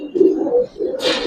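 Giribaz pigeons give a close, loud run of throaty coos lasting about a second, with a brief higher rustle near the end.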